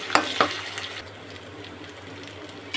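Onions with ginger-garlic paste are stirred in a hot pan, giving a couple of sharp scrapes at the start followed by a steady soft sizzle, close by and with no talking.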